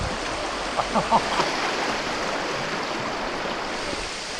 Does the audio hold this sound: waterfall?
yes